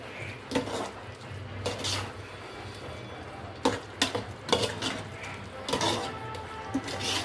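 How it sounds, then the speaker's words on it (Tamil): Curd is stirred into biryani masala in a cooking pot, with a low steady hum underneath and several sharp clinks and scrapes of a spoon against the pot spaced through the stretch. "இப்போ இதில் கர்ட்லாம் சேர்க்க போகிறோம்"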